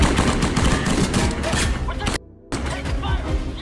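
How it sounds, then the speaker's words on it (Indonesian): Rapid bursts of gunfire and heavy impacts fill a 2025 action film shootout with terrorists, loud and dense, cutting out abruptly for a brief silence before resuming. "terjadilah aksi tembak-tembakan"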